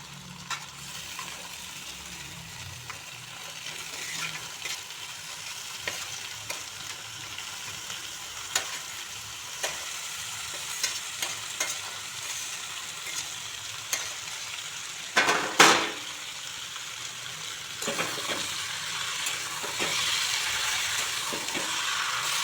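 Mushrooms added to chopped tomato frying in a pan make a steady, close sizzle and crackle that runs throughout, with a few louder stirring scrapes and hisses partway through.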